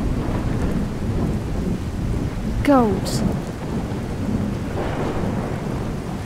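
Rain pours steadily in a Skyrim thunderstorm while low thunder rumbles underneath, with a brief sharp sound midway and a single spoken word.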